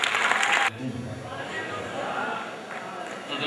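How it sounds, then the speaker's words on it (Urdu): Audience applause greets a poet at an Urdu mushaira in Saharanpur, a loud burst of clapping from a crowd that cuts off abruptly after under a second, leaving quiet hall ambience. "آئیے دوستوں پرزور تالیوں سے استقبال کریں"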